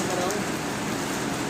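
Rain falls in a video game as a dense, even hiss that continues without a break across the short moment.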